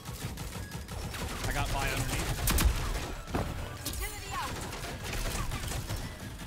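SMG gunfire in the Rogue Company shooter game, rapid bursts of automatic fire cracking in and out amid other combat noise, with a player's voice talking over it.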